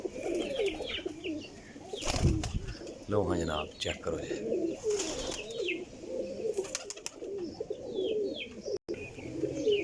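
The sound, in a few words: pigeons cooing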